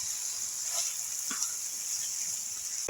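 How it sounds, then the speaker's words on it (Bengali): Dal sizzles steadily in a pan while being stirred for Bengali pulao, a constant close frying hiss with a couple of faint scraping stirs and no talk. "এবার আমি ডালটা একটু নেড়ে চেড়ে নেবো"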